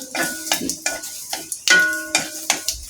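A sizzling tempering of whole cumin for mash kalai dal is stirred with a dry wooden stirrer, giving rhythmic knocks against the pan about every half second over a crackling fry, loud and close.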